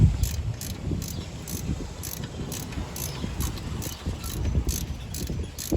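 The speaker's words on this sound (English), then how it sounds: "I'm gonna turn a ratchet the wrong way" A ratchet wrench clicks in quick, regular runs while being worked on alternator bolts of a Chevy Tahoe in a driveway, the pawl ticking steadily and close by.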